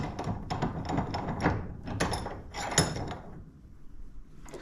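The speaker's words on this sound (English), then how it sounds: "So I put this in my vise" An old carriage bolt is clamped into a metal bench vise, giving a quick run of ratcheting, clanking mechanical clicks and scrapes that trail off into quiet near the end.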